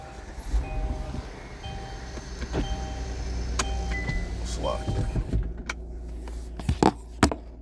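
Inside a car, a power window motor whirs over a steady low road rumble, with a few sharp clicks and knocks near the end.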